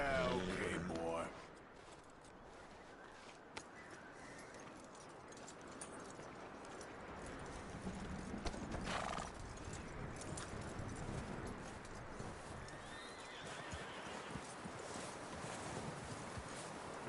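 Horse hooves clip-clop steadily at a walk in the Red Dead Redemption 2 video game, under a continuous bed of ambient noise and occasional voices.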